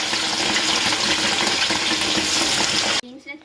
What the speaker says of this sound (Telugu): అలాగే కొన్ని వేసుకుంటూ వేపుకోవాలి.